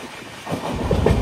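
Aboard the Visakhapatnam Weekly SF Express hauled by a WAP-7 electric locomotive, a brief rolling rumble of carriages builds quickly, loud and close, with a rising rattle of wheels on track.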